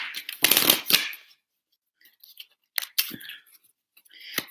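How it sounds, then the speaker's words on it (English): A tarot card deck is shuffled by hand in several short, crisp bursts of riffling and slapping, close and dry, with quiet pauses between them. "This deck never wants to shuffle properly."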